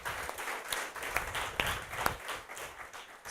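Modest applause from a small audience after a tech talk on AI for React developers, individual claps audible in an uneven patter at moderate, fairly quiet level.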